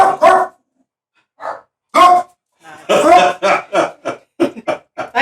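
Several dogs bark loudly and close by in short, separate bursts with brief gaps between them, some sounding rough and almost cough-like, heard alone without talk.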